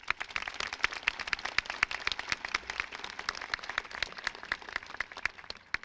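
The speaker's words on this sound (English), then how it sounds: "please join me with one more big round of applause for all of our SUNY Chancellor Award winners" An audience at a 2024 community college commencement applauds for award winners: a dense, continuous patter of many hands clapping at moderate distance, steady throughout with no talk.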